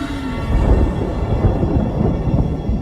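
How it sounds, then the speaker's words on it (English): Deep rolling thunder from a movie scene, a loud sustained rumble with rain-like hiss, heard alone with no talk. "And there's the thunder"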